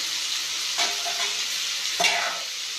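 Drumstick, brinjal and raw mango pieces sizzling in hot oil for sambar while a spoon stirs them, a steady close frying hiss with two brief scraping stirs.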